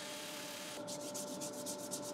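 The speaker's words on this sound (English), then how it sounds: "Switching over then now to my 3-inch sanding arbors." A yew wood bowl is sanded on a lathe with a 3-inch sanding arbor. After a quiet moment, soft rhythmic rubbing starts, with repeated gritty sweeps close by and low in volume.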